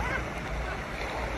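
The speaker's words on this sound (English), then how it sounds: "Ready for the waves? The waves coming." Waves rush and splash in a wave pool at a Nickelodeon water park in Mexico, making a steady broadband wash of water with voices mixed in.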